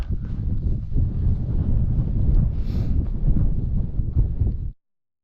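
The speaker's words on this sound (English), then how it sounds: "Just a little too windy." Strong wind rumbles against the microphone on a Lake District fell walk near Bowfell and Crinkle Crags, in steady low gusts, then cuts off abruptly near the end.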